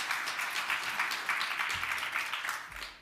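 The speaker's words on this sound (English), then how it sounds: "I really think that we should give them a round of applause because this is a magnificent event" An event audience celebrating International Women's Day gives a round of applause: a fairly soft, continuous patter of many hands over about three seconds, thinning and fading toward the end.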